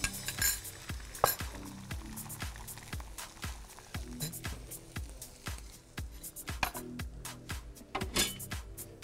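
Beaten egg and other food sizzle in a hot pan while a utensil repeatedly stirs and scrapes, giving a rhythmic series of clinks and scrapes over a steady frying hiss.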